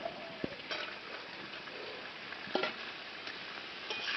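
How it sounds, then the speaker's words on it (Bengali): New potatoes tossed into frying duck meat and stirred in a pan: a steady low sizzle with a few sharp clinks and taps of the spoon against the pot, no talking. "এবার আমি আলুগুলো দিয়ে দেবো।"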